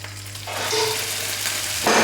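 Bacon sizzles and crackles steadily in olive oil in a frying pan, a close, dense frying hiss with no voices over the short stretch.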